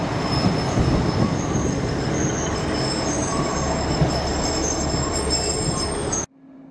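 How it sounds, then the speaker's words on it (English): A train running on the South Wales rail line near Pontypridd, heard from on board as a loud, steady rumble with high wheel squeal, cutting off abruptly at the end. "I got straight back onto the train to get some more shots."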